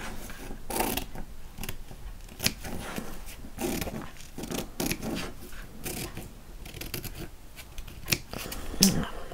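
Scissors snip repeatedly around the top edge of a fabric witch hat, a quick run of close, crisp cuts with small rustles of material between them, with no voices.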